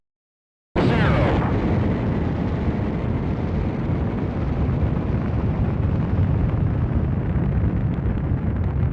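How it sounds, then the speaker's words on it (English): Rocket liftoff in a Cruis'n arcade or Nintendo 64 game: silence broken by a sudden loud blast that settles into a sustained, powerful roaring rumble that holds steady to the end. "We have liftoff."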